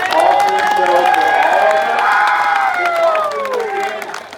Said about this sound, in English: want to give another huge round of applause for these 4 guys here